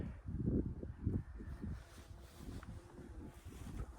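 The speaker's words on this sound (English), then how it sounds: "And that wind's really picked up." Strong gusty wind buffets the microphone on open hills in the Peak District, a loud low rumble that rises and falls in waves throughout, with no voices.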